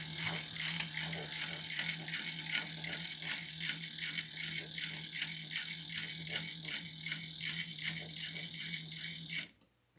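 Sewing machine back stitching a leather tall wallet, a steady rapid mechanical rattle of needle strokes running continuously and close, then stopping abruptly at the end.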